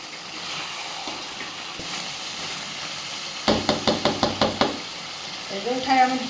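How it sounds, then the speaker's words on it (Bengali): Quick rhythmic scraping knocks of a spoon against a pan as cabbage and chicken skin curry is stirred, about eight sharp strokes in a row over a low kitchen background. "তরকারিটা নেড়ে দিলাম"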